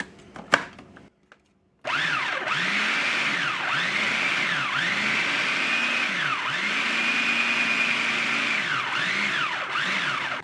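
Food processor whirring as it mixes cold buttermilk biscuit dough, loud and continuous with a rhythmic pitch that dips and swells as the dough tumbles, starting abruptly after a brief clatter and short silence.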